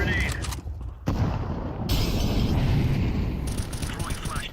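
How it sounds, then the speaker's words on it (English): Grenade and flashbang blasts in a video game, a dense, continuous roar of booming explosions and crackling gunfire-like bursts, loud and sustained with a sharp break about a second in. "Throwing a grenade. Grenade out. Throwing flashbang."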